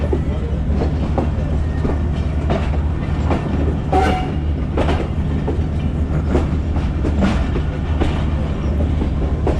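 Pakistan Express passenger train rolling into Faisalabad yard, a loud continuous rumble with steady clickety-clack of wheels over rail joints and occasional sharper knocks, heard from on board.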